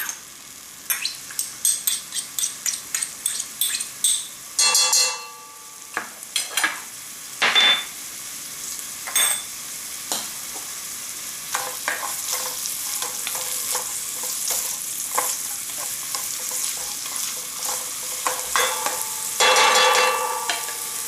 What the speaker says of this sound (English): We're going to add the garlic.